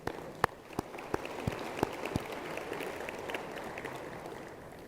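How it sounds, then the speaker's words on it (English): Applause from a campaign-rally audience in Lancaster, Pennsylvania, with a few sharp, distinct claps standing out over a steady, fairly quiet wash of clapping that runs the whole way through. "Let's give each of you a round of applause for contributing tonight."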